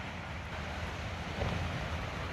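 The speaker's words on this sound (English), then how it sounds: "That is the great blue sea." Sea waves wash against a cold coastline in a steady, low, continuous roar, with wind buffeting the microphone and no voices.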